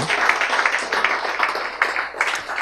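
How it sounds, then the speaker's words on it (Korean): A hall audience claps at a community health center event, the applause dense and steady, sustaining at an even loudness for the whole stretch without a pause. "박수 쳐주세요"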